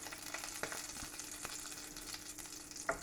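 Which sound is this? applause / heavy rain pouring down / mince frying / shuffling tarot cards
mince frying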